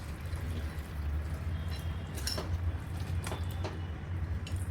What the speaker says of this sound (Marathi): पाणी टाकूया आता